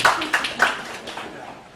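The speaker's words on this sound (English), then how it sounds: "A round of applause for my sister, please." A few sharp, distinct hand claps from a small audience at a film promotion event ring out close by, three clear strikes followed by a softer fading patter.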